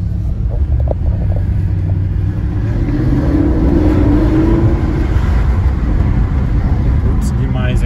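A 2011 Mercedes SLS AMG with its 6.2-litre V8 pulls hard under acceleration, a loud, steady engine roar rising in pitch through the middle of the stretch, with a voice talking over it.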